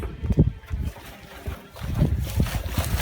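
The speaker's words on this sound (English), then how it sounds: "That's not the sound of just petrol, that's the sound of sediment and probably rust." Sediment and rust sloshing and rattling with petrol inside the metal fuel tank of a barn-find Yamaha DT125 motorcycle, irregular gritty shakes in bursts, close and moderately loud.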